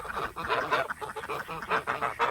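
Geese and ducks honk and quack noisily in a dense, overlapping chorus close by on a farm, where Khaki Campbell and Cayuga ducks are kept.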